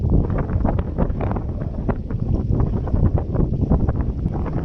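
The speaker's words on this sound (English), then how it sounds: "That wind has arrived." Strong wind in a New Zealand alpine area buffets the microphone with a loud, continuous low rumble and gusty roar, steady throughout with no talk.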